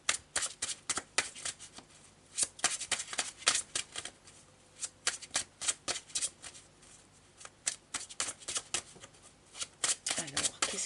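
Marseille tarot cards are shuffled by hand in steady repeated riffles and slaps, crisp and close, with someone talking over parts of it.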